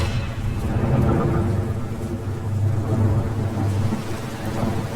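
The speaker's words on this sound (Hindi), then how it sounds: "उसी रात मूसलाधार बारिश के बीच" Heavy rain pours steadily with a deep, rolling rumble of thunder underneath, loud and continuous throughout.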